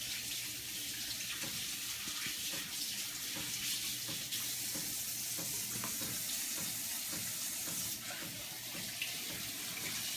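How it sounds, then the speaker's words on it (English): Tap water running steadily into a sink while a seasoned brick for brick chicken is washed, a loud continuous rushing splash with small shifts in flow, close, with no voices. "I'm going to wash that off."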